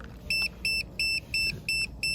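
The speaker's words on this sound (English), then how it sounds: "Stop beeping at me." A green laser level gives six evenly spaced, identical electronic beeps, each short and bright, repeating at a steady quick rhythm over low background noise while leveling shipping containers on concrete blocks.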